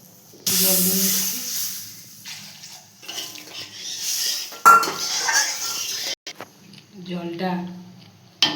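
Water poured into a cooking pan of mustard-spiced puti fish curry gives a long, soft hiss, with light clinks of pots and utensils and someone talking over much of it.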